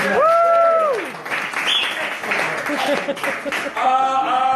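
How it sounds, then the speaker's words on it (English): An improv show audience at a weekend intensive graduation performance breaks into sustained applause, dense and close, with a loud whooping voice rising over the clapping at the start. "Give a round of applause!"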